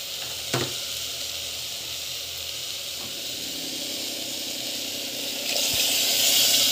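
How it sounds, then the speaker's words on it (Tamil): Brinjal sautéing in a hot pan gives a steady, close sizzle and hiss, with a brief stir clatter early and the frying swelling louder near the end, no voices. "கத்திரிக்காய் ஆட் பண்ணிட்டு நல்லா வந்து வதக்கிக்கோங்க"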